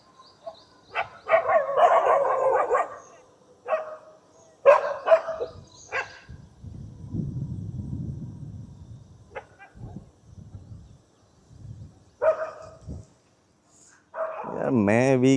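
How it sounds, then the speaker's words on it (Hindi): Neighbourhood dogs barking and scuffling in a fight, with sharp bursts of barks and yelps spread through the scene, some closer and some farther away, alongside stretches of low rumbling noise. "अब कुत्ते हैं, एरिया है, लड़ाई झगड़े तो करेंगे ही।"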